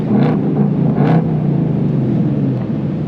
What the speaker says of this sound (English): So here's the different exhaust notes. This is the track mode